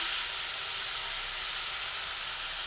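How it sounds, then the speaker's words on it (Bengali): Vegetables and sour yogurt are stirred into hot oil with a little nut paste, giving a steady, close, even sizzle that hisses on without a break. "এগুলো অল্প করে তেলের মধ্যে দিয়ে নাড়াচাড়া করে দিলাম"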